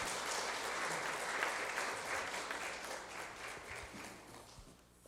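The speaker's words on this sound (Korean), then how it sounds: "박수로 축하해 주시기 바랍니다." A church congregation at a Sunday service claps together in steady, moderately distant applause that continues throughout and fades slightly toward the end.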